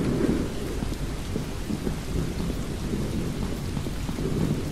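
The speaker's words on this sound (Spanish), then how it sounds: "Está tronando." Heavy, steady rain pours over a low, continuous thunder rumble in the horror exploration game Shadows Peak, an even wash of storm noise with no voices.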